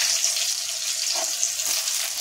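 Cumin and chili frying in hot oil, a steady close sizzle with crackling bursts running the whole time, no talk.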